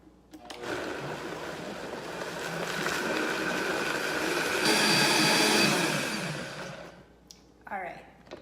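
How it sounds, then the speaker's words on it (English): A blender whirring through a creamy cashew herb dressing, a loud continuous motor roar that builds in intensity and pitch, then stops abruptly, followed by a brief sigh-like voice sound afterward. "So the longer you blend it, the creamier it's going to get"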